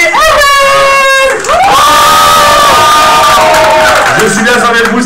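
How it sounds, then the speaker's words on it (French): School crowd at a high-school event cheering loudly, with sustained shouts and whoops from many young voices close by and filling the whole stretch. "On les applaudit."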